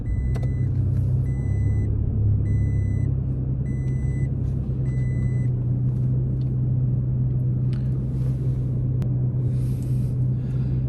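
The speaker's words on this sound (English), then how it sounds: "I'll just power on the truck for everybody just so you see the thing boot up" A 3rd-generation Toyota Tacoma truck idles with a steady, loud low rumble throughout, while a few short electronic chimes repeat over the first five seconds and no one speaks.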